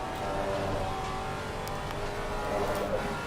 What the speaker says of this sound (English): Faster car approaching.